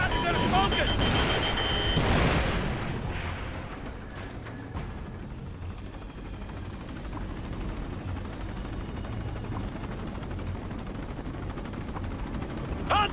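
A hostile helicopter in the video game Ghost Recon Future Soldier, a loud rumbling rotor roar dominating the opening seconds, then fading into continuous battle noise with gunfire and shouted voices.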